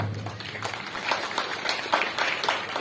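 Applause welcomes a guest at a women's kho kho league event held at a school in Bihar, a crowd clapping in scattered bursts under loudspeaker-style ambience.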